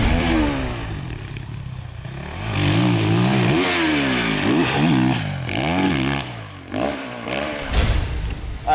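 KTM dirt bike fitted with new gearing, the same setup used for Supercross, ridden hard: a loud single-cylinder engine revs up and down repeatedly through corners and straights, with clatter and thumps of the bike over the track.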